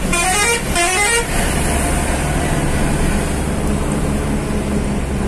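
A bus moves through a traffic jam on the Manpur ghat, a mountain road, with a steady loud engine roar and a brief horn-like tonal burst at the start, all against continuous traffic noise.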